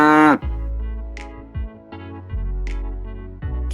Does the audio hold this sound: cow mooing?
yes